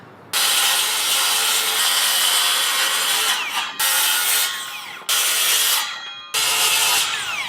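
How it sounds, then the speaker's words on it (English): A power saw cuts plywood into spacers during a deck lighting build, making four loud, close bursts of rasping cutting noise, each about a second long, separated by short pauses. "And I'm gonna cut all these out of this plywood"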